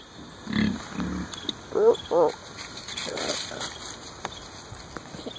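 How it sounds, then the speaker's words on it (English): Pig snorting at a farm among goats and other animals, a few short grunty bursts in the first half close by, with people talking in the background throughout. "You hear the piggy snorting, Bella?"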